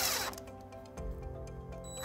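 A power drill drives wood screws into framing blocking while a small electrical box is installed. The close motor whirs and winds down in short, loud bursts.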